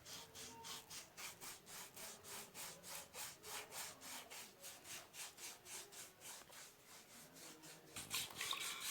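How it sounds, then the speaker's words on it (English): A foot scrub with baking soda is rubbed back and forth over dry, dead skin on the feet, giving a steady run of rhythmic rasping strokes, close and evenly paced, with a louder scuffing burst near the end. "I'm just gonna go ahead and rub the feet and try to get rid of all that dead skin"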